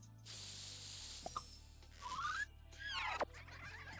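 A comic advert for a can of spray-on neckbeard opens with an aerosol can hissing in a sharp, steady burst, followed by whistling, swooping synthetic effects and a faint musical drone.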